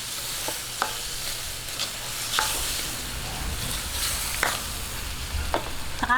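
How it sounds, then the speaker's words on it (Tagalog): Vegetables with annatto are stirred in a frying pan for lumpiang hubad, the utensil scraping in soft irregular strokes over a steady close sizzle, with no talking. "bigyan po natin ng atsuete. Ayan, haluin lang po natin."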